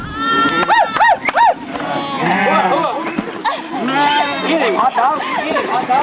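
Sheep bleat repeatedly at close range on a ranch during sheep marking, several animals calling in quick overlapping cries, while people talk nearby throughout.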